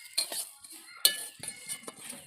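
A metal spoon clinks against a bowl while powdered milk is measured into a semolina pitha batter, several light, close chinks spaced irregularly with soft scraping between.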